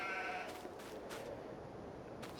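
Sheep in Farming Simulator 22 give a few short, faint bleats spaced across a couple of seconds over a quiet background hum.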